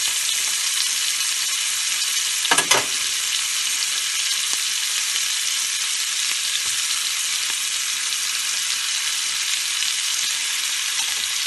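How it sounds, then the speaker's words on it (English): Shrimp brown in a skillet, giving off a continuous even sizzle, with one short clatter of tongs early on; no voices. "brown the shrimp"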